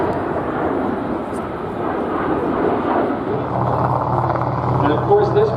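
A MiG-29 fighter jet flies over EAA AirVenture Oshkosh 2022 with a broad, roaring jet rumble that swells toward the end, while a commentator talks over it.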